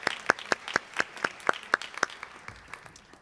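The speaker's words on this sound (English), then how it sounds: "So we'll clap so loud she can hear us." Clapping for a retiring teacher at staff awards: a quick, even run of about a dozen sharp, close claps that taper off toward the end.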